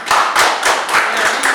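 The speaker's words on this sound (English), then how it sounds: "Please give the man his clap." A small class group at a map-reading lesson of a prospectors course claps in a brief burst, about six distinct, fairly close rhythmic claps in quick succession.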